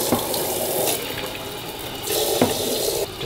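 Cold water runs from a kitchen tap into a cooking pot while haggis is being made, a loud, steady gushing splash that briefly surges and cuts off near the end.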